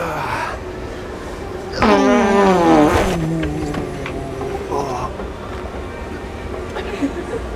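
A heavy dump truck rumbles past close by, its engine roaring loudly for about a second before fading into street noise, with voices around it.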